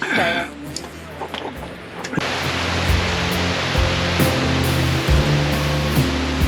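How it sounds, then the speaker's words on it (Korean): Steady ocean surf rushes and washes continuously on a quiet beach, a dense, loud roar of breaking waves after a brief quieter moment. "파도 소리만 들리는 조용한 해변"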